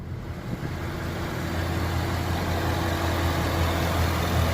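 A 5.0 V8 car idles through a Roush exhaust system, a low, steady rumble that holds evenly from start to finish with no one talking.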